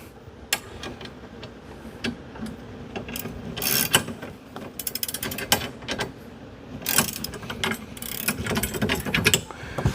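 A wrench works a bolt on an offset gooseball hitch for RV and trailer towing, giving close, irregular ratcheting clicks and metallic scrapes in short bursts as the bolt keeps spinning.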